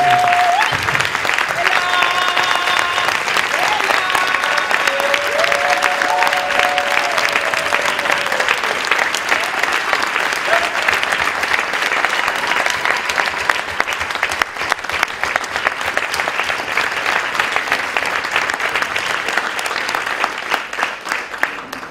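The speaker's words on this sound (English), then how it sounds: "And we put our hands together for Pat." A standing audience at a tribute gathering claps steadily and warmly for over twenty seconds, a dense, even wash of applause that fades slightly toward the end.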